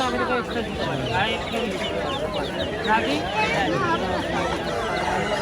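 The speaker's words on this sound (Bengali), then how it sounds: "আর এখানে রয়েছে দেখো মুরগি, হাঁস, এগুলোর বাচ্চা, দেশি মুরগি, হাঁস।" Native chickens, ducks and their chicks cluck and chirp busily at a crowded Sunday pet market on Galiff Street in Kolkata, the bird calls layered over a constant murmur of voices and nearby talk.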